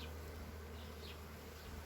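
Honey bees, including pollen-laden foragers, hum steadily around an open hive during an inspection, a faint continuous drone with no one talking.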